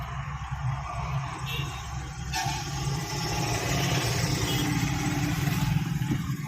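A car engine hums steadily as a learner driver shifts into second gear, rising slightly in level, with an instructor talking over the engine.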